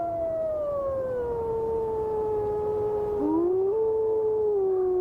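A wolf pack in Yellowstone howling in chorus, long overlapping wavering howls that slide in pitch and are heard steadily at a distance, with no bass voice among them.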